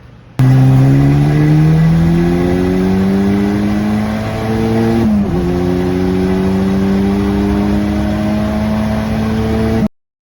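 A built Honda H22 engine car accelerates hard during a street-tuning pull, loud steady rising engine drone through a gear change midway, then cuts off abruptly.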